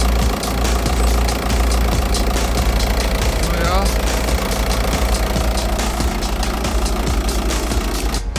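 A VW Touran engine runs just after starting, a steady close idle with a rhythmic clattering, ticking texture throughout, and a voice speaking briefly over it.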